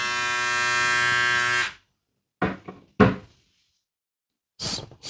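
A VGR V358 hair clipper buzzes steadily at its second speed, close and loud, with a strong harmonic hum. It then switches off, followed by a few sharp knocks and handling clatters.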